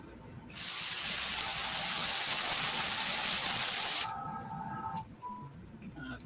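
A spray fires in one continuous loud, close hiss lasting about three and a half seconds, cuts off abruptly, and is followed by a few faint handling clicks.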